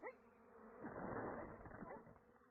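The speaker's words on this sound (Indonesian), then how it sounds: "Gimana lebah-lebahku bisa nyampe ke kamu?" Bees buzz as a sound effect in an animated story, a dense droning swarm that swells in the middle and then eases off, with no speech.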